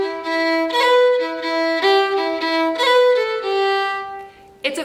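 Solo fiddle plays a phrase of the traditional Irish Swallowtail Jig, with a quick grace note ornamenting the bowed melody; clear, close notes in lilting jig rhythm, with no accompaniment.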